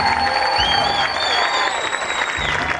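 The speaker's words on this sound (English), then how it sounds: "Now give the young lady a round of applause." Audience applause and cheering from a crowd at a Back the Blue political rally in Cave Creek, Arizona, steady and sustained throughout, with some whistles over the clapping.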